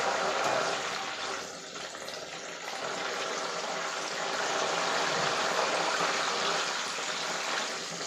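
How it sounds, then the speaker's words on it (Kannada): Salt water splashes into hot frying oil while banana chips cook, setting off a loud, steady hissing sizzle that holds for several seconds with a slight dip partway through. "ಸ್ವಲ್ಪ ಉಪ್ಪು ನೀರು ಹಾಕ್ಕೊಳ್ತೇನೆ. ಸುರಿಮಳೆ ಬರುತ್ತೆ ನೋಡಿ,"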